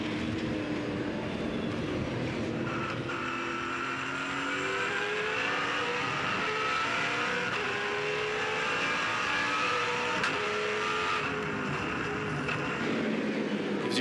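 V8 Supercars roar past during a 2007 race at Barbagallo Raceway, a continuous dense wash of engine noise with rising and falling pitch as cars pass close by, no voice heard.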